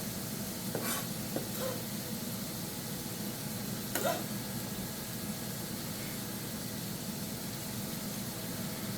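A chili pepper sizzling in a hot pan for a shrimp pasta dish, a steady hissing fry throughout with a couple of brief sharper crackles or clinks early on.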